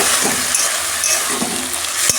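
Jute leaves are stir-fried in a pan, making a continuous close sizzle broken by spatula scrapes and stirring rustles, with one sharp clack near the end and no voices.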